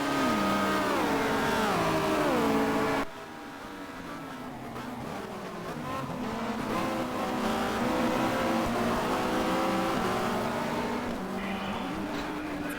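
Ford and Vauxhall touring cars racing in the 1990 WTCC round at Barcelona, engines droning and shifting pitch through gear changes, loud and close with a brief drop as the sound cuts, then more cars passing.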